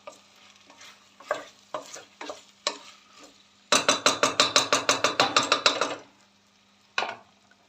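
Pepper paste fries in oil for a pasta dish with yogurt, garlic and potatoes. A utensil scrapes and stirs the pan in quick rhythmic strokes, with a dense burst of rapid scraping in the middle, over a low steady sizzle.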